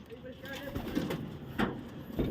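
Soft, repeated pigeon coos close by, a few rounded low calls in a row with light background noise.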